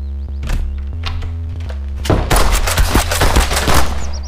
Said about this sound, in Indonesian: Widih, mainan tembak-tembakan.